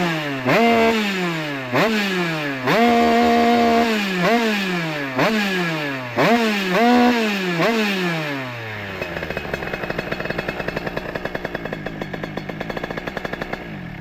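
A 50cc motorcycle fitted with a 17 MK engine revs hard in repeated rising bursts, each climbing to a shrill two-stroke scream and dropping back, then settles into a rapid, crackling idle close by.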